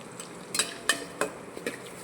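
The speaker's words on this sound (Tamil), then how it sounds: "இங்கே பாருங்கள், வெங்காயம் நல்லா வதங்கிக்கிட்டு இருக்கு." A large onion, chopped small, sautés in a pan for vathal kulambu, with four quick scraping clinks of a utensil stirring over a faint background sizzle, close and fairly quiet.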